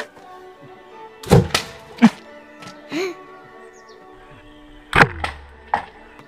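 A Gamo CFX Royal air rifle fires with sharp close thunks, a few distinct shots spaced seconds apart, with brief ringing and faint background sounds between.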